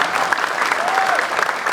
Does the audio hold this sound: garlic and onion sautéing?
no